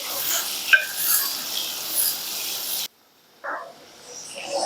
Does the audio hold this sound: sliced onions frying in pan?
yes